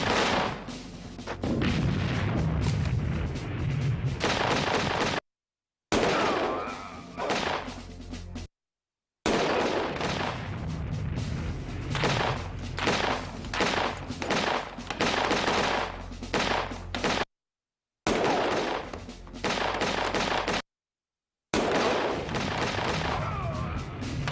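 Video game gunfire in dense bursts of booming shots and rapid fusillades, loud and close, broken by several short silent gaps.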